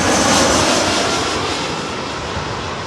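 A Eurowings Airbus A319 jet airliner roars at Heathrow, a loud, dense engine rumble and whine filling the whole clip, strongest at the start and easing slightly, with no voices.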